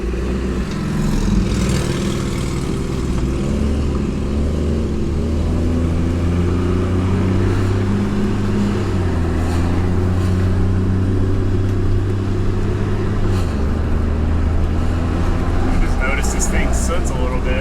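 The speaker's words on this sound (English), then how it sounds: "Oh, there's the Jake brake." Engine brake on a car hauler bus conversion, a loud low droning engine with stepped pitch changes as it slows, close and continuous inside the cab, with a voice talking over it.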